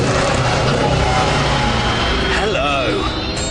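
A Dodge Challenger SRT8's 6.1-litre V8 engine rumbles and revs loudly up close, its deep growl rising in pitch, with voices talking and shouting over it.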